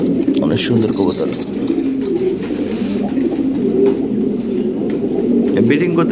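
Fancy Lahori Sirazi pigeons coo in low, rolling bursts, close and steady, with a busy background and voices talking throughout.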